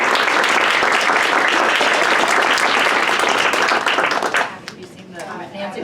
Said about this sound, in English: Join me in a round of applause.